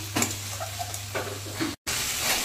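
Spice paste for jackfruit seed dal sautéed in a pan: a steady low sizzle with a few scraping stirs and a short break near the end.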